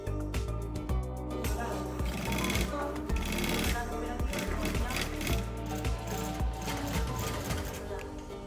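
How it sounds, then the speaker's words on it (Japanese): Busy indoor mechanical clatter with rapid rhythmic ticking of several sewing machines running together in a workshop sewing airbag-fabric bags, with voices faintly underneath. "室内に響く ミシンの音。"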